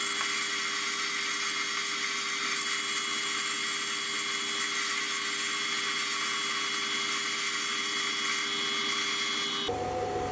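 A metal lathe turns a part down to diameter to match a cutter insert, building a ball turning attachment; a steady, close whine with a high ringing tone runs throughout, then shifts character abruptly near the end.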